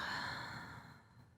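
A single slow, deep exhale during a guided meditation, soft and close, gently fading out with no talking over it.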